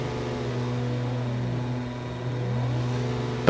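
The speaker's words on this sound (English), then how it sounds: "You can hear the drivers revving up their engines" Formula Three race cars wait on the grid, their engines droning steadily and loudly while the pitch sags and climbs in short revving swells, with no voices over them.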